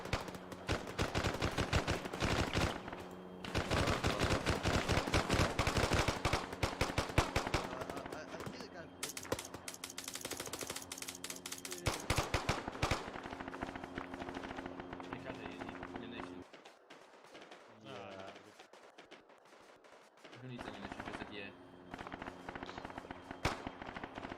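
Dense automatic gunfire from the military game ArmA 3 crackles in rapid bursts and long sustained volleys, easing briefly before resuming, with voices talking in the background.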